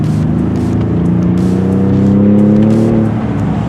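A high-spec Ford Ranger pickup in blackout trim revs its engine, a loud, steady drone with rising and falling harmonics that swells and then eases off over a few seconds, with no talking.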